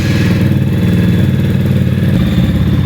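A Rusi Titan 250 FI motorcycle engine runs loud and close with a steady, slightly rough mechanical chug, and the tone shifts a little near the end. No one speaks over it.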